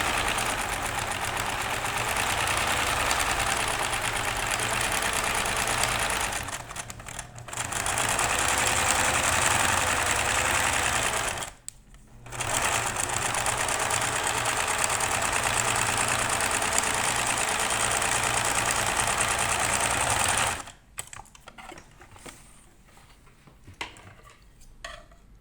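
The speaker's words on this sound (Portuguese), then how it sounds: "E agora a gente vai passar uma costura na volta toda." Sewing machine stitching a seam all the way around a fabric bow, a steady close mechanical whirring drone with two brief stops, then falling quiet into faint handling clicks near the end.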